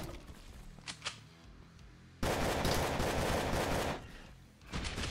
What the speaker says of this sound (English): The only sound that really registers to me is my gun shooting.